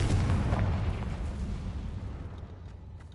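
A Confringo fire spell blast in the video game Hogwarts Legacy, a loud, close explosive boom with a heavy low rumble that slowly fades away over about three seconds, with no talk.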